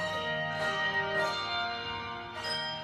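Bright handbells from a handbell orchestra ring in overlapping tones, several strikes sounding a melodic phrase with a long shimmering sustain.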